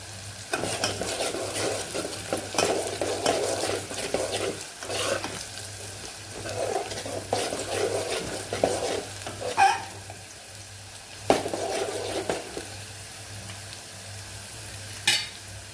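Onions sauté in a pan with a soft, steady sizzle, broken by bursts of stirring and a few sharp clinks of the utensil against the pan, fairly quiet and close.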